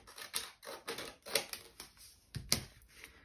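Scissors cut paper for a black, white and gold collage, giving a series of about seven crisp, close snips at an uneven rhythm with nobody speaking.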